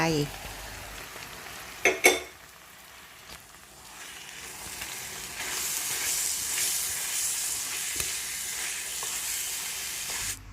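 Pounded bean filling stir-fried with sugar in a pan over low heat, with a couple of scraping knocks early on and then a soft, steady sizzle and hiss that swells and continues, close and fairly quiet.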